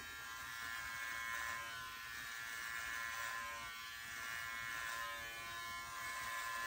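An electric beard trimmer buzzes steadily while it trims the underbeard, a quiet close whine with slight swells as it scrapes across the hair, and no talking.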